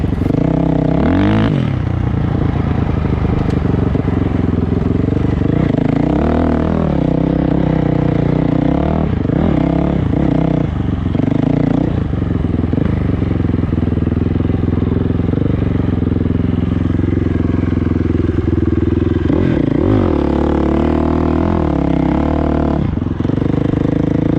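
A dual sport motorcycle riding and accelerating on sand in Michigan's Upper Peninsula, with a loud, continuous engine drone that rises and falls through repeated throttle surges, plus occasional clatter and scraping, close to the microphone.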